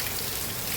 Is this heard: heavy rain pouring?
yes